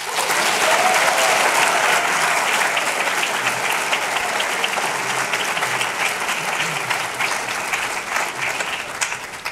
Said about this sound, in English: Please join me in a round of applause to recognize her for this stellar panel.